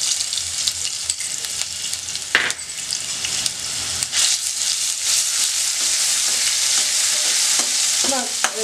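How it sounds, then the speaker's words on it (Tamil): Ginger garlic paste frying in hot oil, a continuous loud crackling sizzle with sharp spatters and occasional spoon scrapes against the pan, heard alone without talk. "இப்போ எண்ணெய் காஞ்சிருச்சு இப்போ வந்து இந்த இஞ்சி பூண்டு பேஸ்ட் போட்டுக்கலாம்"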